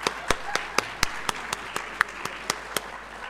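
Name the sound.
audience applause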